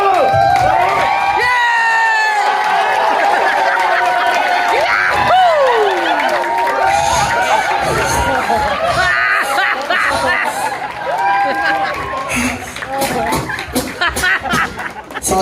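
An audience at a Filipino game show erupts in loud cheering, shouting and laughter, with clapping running throughout and a voice talking over the crowd.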